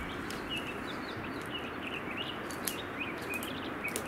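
Chickens cluck and chirp outdoors around a person, with short scattered calls repeating over a steady low background rumble and no talk.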